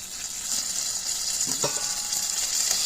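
A pot of beef simmers with a soft, steady sizzle and faint bubbling, plus a brief clink near the middle, cooking outdoors.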